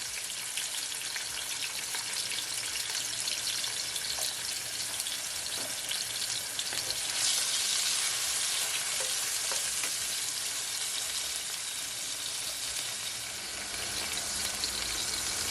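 Onion, tomato, garlic and scallion fry in olive oil, a dense, steady sizzle that holds evenly throughout with faint crackles and no voices.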